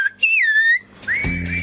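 A whistler on Tenerife imitates the Latvian greeting "labdien" in whistled language: two clear, loud pitched phrases, the first gliding down and levelling, the second rising, with a short gap between.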